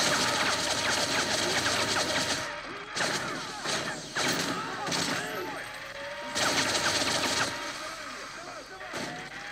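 AK-47 fire rattles in Call of Duty MW3 survival as repeated bursts of rapid shots, fairly loud, interleaved with crashes and clanking game action and a speaking voice.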